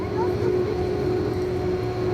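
Cabin drone of a Saudi Arabian Airlines Airbus A330 near the runway, a steady low engine hum with a faint tonal whine, continuous and even.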